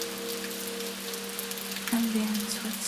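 Soft, steady rain falls on a Tokyo night, an even hiss of drops on surfaces, with a low constant hum beneath and a brief tonal whine partway through.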